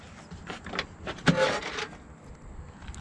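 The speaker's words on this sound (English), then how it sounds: "The windows pop out like that. They still work too." The windows of an old car are worked, giving a short close mechanical clunk and whir around the middle, with a few smaller rattles before and after.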